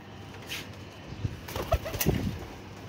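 Pigeons coo softly in a loft, with a few low murmuring calls and light rustles and wingbeats scattered through a couple of seconds, fairly close.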